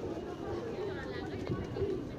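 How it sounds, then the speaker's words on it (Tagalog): Pigeons in Patan Durbar Square, Nepal, cooing softly among a crowd, with steady chatter and voices of people nearby running under the low birdsong throughout. "Ito yung mga kalapati."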